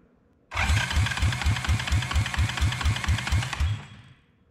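Honda TRX200SX ATV engine, rebuilt with a JB Weld–repaired cracked case, cranking over with the ignition off: a loud, close, rhythmic starter churn of about sixteen even compression pulses for three seconds, then stopping, with no talking.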